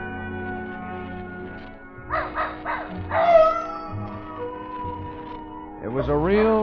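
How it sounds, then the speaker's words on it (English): A dog barking at night in a radio drama, with a few short yips and then a drawn-out howling bark, answered near the end by further rising howls over a quiet background. "Old Nugget the dog was carrying on a long-distance conversation with his country cousins, the coyotes up in the hills"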